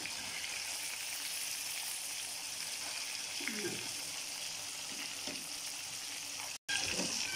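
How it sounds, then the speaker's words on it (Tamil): Fish frying in a pan for a crispy fish fry, a continuous soft sizzle heard close, with a brief clatter and a short break near the end. "ஃபிஷ் இப்போ ஒரு சைடு நல்லா ஃப்ரை ஆகிடுச்சு, நம்ம இன்னொரு சைடும் ஃப்ரை பண்ணிடலாம்"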